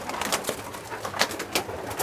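Racing pigeons cooing near a loft on race day, soft repeated throaty coos with a steady rhythm, close by and fairly loud, with no talk.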